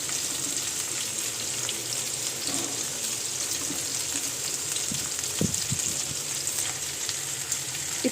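Okra (bhindi) fries in a pan with a soft, steady sizzle and faint crackle, a few light scrapes of stirring near the end.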